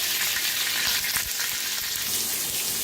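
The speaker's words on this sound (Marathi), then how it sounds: "तर बघू शकता मस्त अशा मिरच्या भाजायला लागल्या त्या" Green chillies fry in hot oil in an iron pan with a loud, steady, close sizzle and occasional light stirring, with no one talking.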